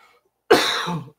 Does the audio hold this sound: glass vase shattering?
no